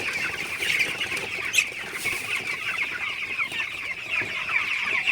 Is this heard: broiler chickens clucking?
yes